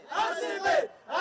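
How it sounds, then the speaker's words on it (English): A crowd of RCB cricket fans gathered before the IPL final chant and cheer in loud, rising bursts, three swelling shouts close by with brief pauses between them. "all of them cheering for"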